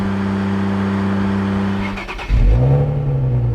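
A BMW Z3 sports car engine idles steadily, then drops briefly before revving up loudly and close by, with no talking over it.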